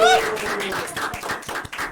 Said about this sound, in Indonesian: Tepuk tangan dulu, tepuk tangan dulu.